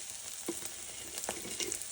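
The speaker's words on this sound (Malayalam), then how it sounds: "പിന്നെ നമ്മുടെ നങ്കിനെ വറുത്തു" Dried nangu fish fries in a pan with a steady, faint crackling hiss, broken by a few soft stirring scrapes, close by and without talk.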